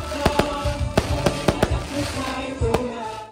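A colorful fireworks display at a community program in Pampanga, with sharp bursts landing singly and in quick pairs over a steady crackling background roar. The explosions sound fairly close and loud, and no one talks.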